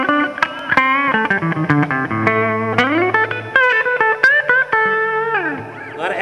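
An electric guitar is played through its neck pickup with volume and tone turned all the way up in an echoey chapel, sounding loud, bright, distorted notes and sliding phrases with heavy reverb.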